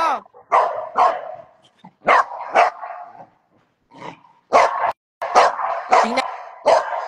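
Pet dogs Brandy and Murphy bark in sharp, close bursts, a few quick yaps at a time with short pauses between, some barks dropping to a low growl, while people talk nearby.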